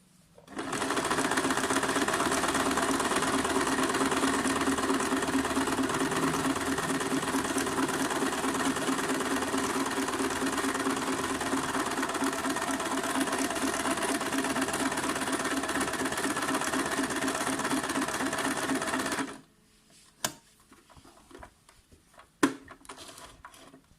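Singer Tradition 2263 sewing machine running steadily for nearly twenty seconds, a close, even mechanical whirr with fast rhythmic needle clatter, then stopping abruptly to leave quiet handling clicks.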